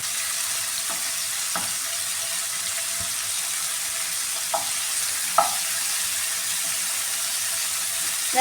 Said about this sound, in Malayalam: ഇത് പെട്ടെന്ന് തന്നെ ഫ്രൈ ആയി കിട്ടും.